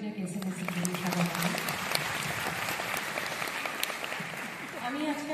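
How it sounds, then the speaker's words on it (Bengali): An audience at a concert celebrating a composer's 100th birthday claps in dense, sustained applause throughout, with a voice speaking over it at the start and end. "একটা জোরে হাততালি হয়ে যায় এসএমএসের জন্য সবার"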